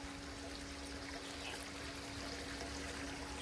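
Water streams into the chutes of an RP4 gold shaker table, a steady broadband rushing and trickling with a faint constant hum underneath, no voices.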